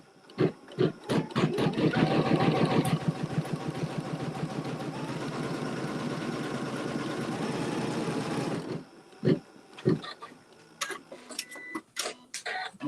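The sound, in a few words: sewing machine quilting a pieced block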